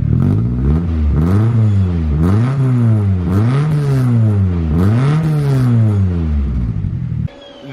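A RWD Subaru Impreza with a swapped Honda K24 engine and a freshly tack-welded exhaust revs repeatedly and loudly up close, each blip climbing and falling back in a rhythmic series before settling to a steady idle.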